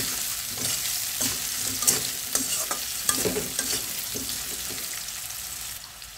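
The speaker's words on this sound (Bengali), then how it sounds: "দেখো, আলুটা প্রায় আমার ব্রাউন কালার হয়ে গেছে। আমি আরও কিছুটা ভেজে নেব।" Potato pieces browning in hot oil with cinnamon sticks for a bain fish curry, a close, steady sizzle broken by repeated scraping stirs of a spatula in the pan, with no talk.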